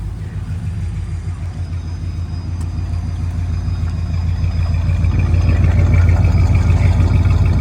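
A 1970 Plymouth Satellite with a 318 V8, turbo mufflers and dual exhaust idles close by, a loud, even, throbbing burble with a steady low pulse that swells a little toward the end, no talking.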